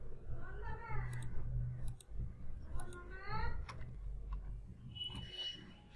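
Sharp mouse clicks in a computer interface, several spaced taps heard close under a voice as he talks.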